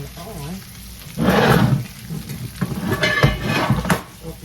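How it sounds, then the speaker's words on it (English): Onions layered on top of stir-fry vegetables in a skillet sizzle in uneven bursts, a loud rush of frying swelling and fading with clanks of pans and utensils nearby. "I'm going to put the onions on top. And I'm just going to let this cook."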